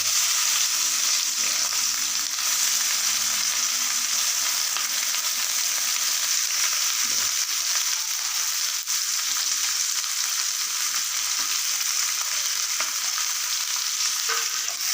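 Ivy gourd pieces frying in hot oil with curry leaves, a loud continuous close sizzle with occasional stirring scrapes, no voices.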